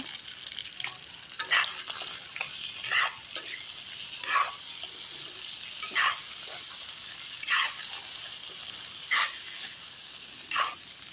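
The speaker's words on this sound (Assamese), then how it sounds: "বিলাহীখিনি দি ভালকৈ ভাজিব লাগিব।" Tomatoes frying in a pan with pork, a steady soft sizzle broken by repeated scraping stirs every second or so, close and alone without speech.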